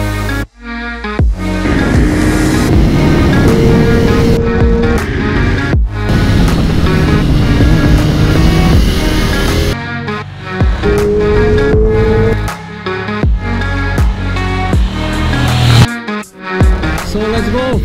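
A 2020 KTM Duke 890 R motorcycle held at full throttle, its engine loud and close, rising through the revs in long pulls with brief dips at gear changes, and wind rushing throughout.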